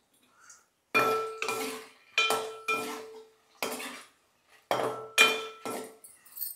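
Metal spoons clinking and clattering against dishes in a kitchen while rice, omelette and spicy chutney are prepared: a series of bright, ringing knocks in quick clusters, close and loud, with no talk.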